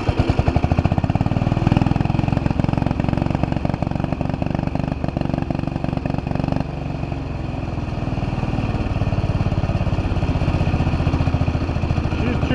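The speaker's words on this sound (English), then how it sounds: "Alright guys, so I got bored and decided to put some muffler on the Massey." An old Massey tractor diesel engine fitted with a muffler chugs with a loud, rapid, rhythmic beat, revving up and then settling back, close by.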